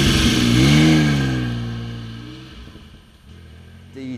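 A chartreuse green Porsche 930 special build with a ducktail spoiler revs loud and close, its engine note swelling and falling across a single strong rev before settling to a rougher idle.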